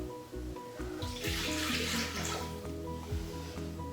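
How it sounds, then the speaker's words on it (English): Water poured into a Thermomix while making ewedu and okra sauce, a short steady splashing gush over a low machine hum. "So we put a little bit of water"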